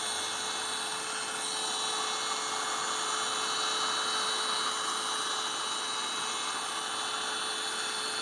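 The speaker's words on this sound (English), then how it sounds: "have a good eye on where your heat gun is so you don't burn yourself, someone else, or scorch your resin" A heat gun blows on resin with a steady, loud whirring roar and a constant high whine, unbroken for several seconds, close to the mic, with no talking.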